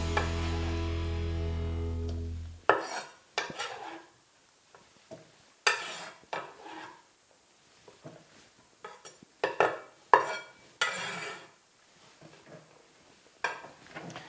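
Pasta salad ingredients whisked in a bowl, a series of brief irregular scraping and clinking strokes, close and moderate in level, separated by quiet pauses after a sustained tone at the start.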